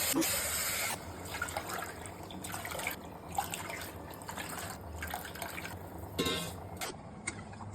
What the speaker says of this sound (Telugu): సిక్స్ గ్లాస్ వాటర్ పోసుకోవాలి